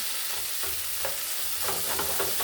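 Potatoes fry in a pan with a constant bright sizzle while a utensil scrapes and stirs them in several short strokes, close and alone.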